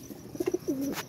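A pigeon coos close by in short soft bursts, a few quick low notes followed by a longer drawn-out coo, with no talk.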